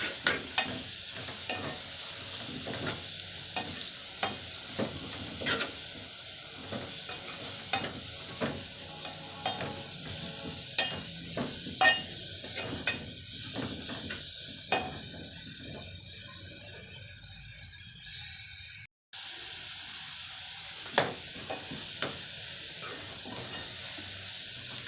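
Chicken gizzard stew being stirred in a pot, a spoon scraping and clacking against the sides in irregular bursts over a steady background hiss, then briefly cutting to silence before the hiss resumes.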